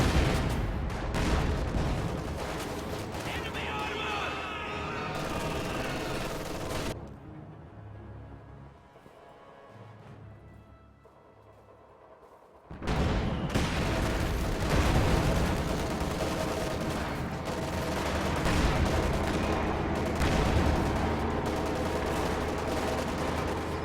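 Tank combat in a World War II game, with a Panzer IV and an Su-76 among the vehicles, erupts in dense bursts of gunfire and heavy cannon shots, broken by a quieter lull before the firing resumes loudly.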